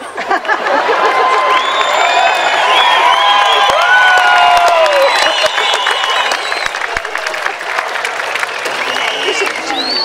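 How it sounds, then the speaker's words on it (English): Large outdoor crowd at a Fourth of July Celebrate America rally in Driggs, Idaho cheering, applauding and whooping loudly and steadily for the whole stretch, with scattered shouts rising above the roar. "I'm going to disregard that cheer."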